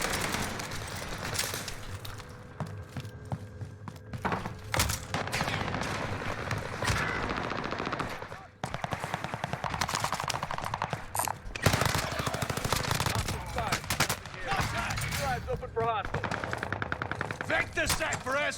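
Heavy gunfire fills a first-person shooter battle, with sustained automatic bursts and scattered shots rattling continuously over a distant, busy soundscape; a faint voice surfaces briefly.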